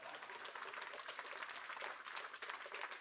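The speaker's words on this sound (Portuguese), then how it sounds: "Aplaudam." Audience applause fills a lecture hall as steady, dense clapping, faint and distant and unbroken for a few seconds.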